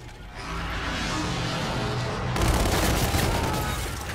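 Dense gunfire from an online multiplayer match in Call of Duty: Infinite Warfare, a steady close volley of shots that swells louder partway through, with no talking over it.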